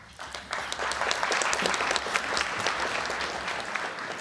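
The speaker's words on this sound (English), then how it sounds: "Folks, go ahead and hold your applause so we can get through the names." Sustained applause from a banquet audience at a scholarship awards dinner, dense and steady clapping that swells in after a brief quieter start and holds at a moderate, even level throughout.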